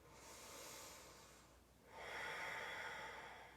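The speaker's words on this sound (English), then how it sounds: "2 more big breaths" Two long, deep breaths during a vinyasa yoga session, each a soft, airy rush of breath close to the ear, separated by a brief pause, with no talking.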